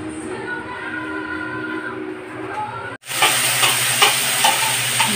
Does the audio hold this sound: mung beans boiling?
yes